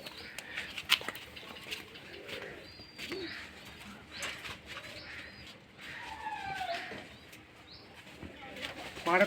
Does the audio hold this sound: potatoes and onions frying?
no